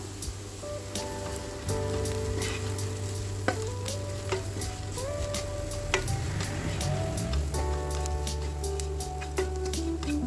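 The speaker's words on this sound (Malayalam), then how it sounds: "ഈ പൊടികളുടെ എല്ലാം പച്ചമണം മാറുന്നവരെ നന്നായിട്ടൊന്ന് മിക്സ് ചെയ്ത് കൊടുക്കാം" Spice powders for a tomato gravy curry are stirred in a frying pan: a steady sizzle with scraping and tapping strokes of the spoon throughout, close and fairly loud, with no talking.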